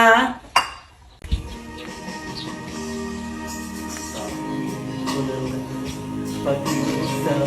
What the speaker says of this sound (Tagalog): hugasan ko na po tong platong